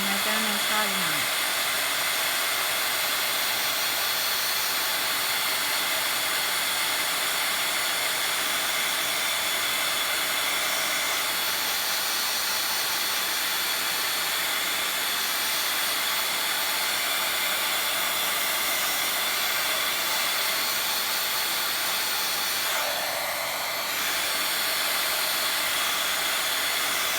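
A hot heat gun blowing steadily while melting embossing powder, a loud, constant airy roar that holds for the whole stretch with only slight shifts as the gun moves.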